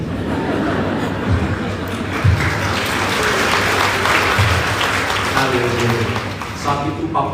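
Church congregation applauding during a Sunday sermon, a steady broad wash of clapping sustained for several seconds, with voices and some tonal sounds mixed in.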